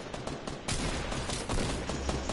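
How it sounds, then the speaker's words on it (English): Rapid gunfire in a PS4 video game firefight, dense continuous bursts of shots layered over one another, loud and steady across the whole stretch with no voices. "do I hear some gunshots"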